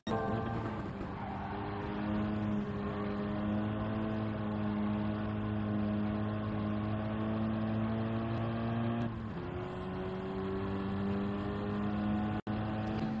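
A race car in Gran Turismo 7 at Kyoto Park, its engine humming steadily at high revs, then braking and downshifting to second gear with a sudden drop and blip in pitch before pulling on again.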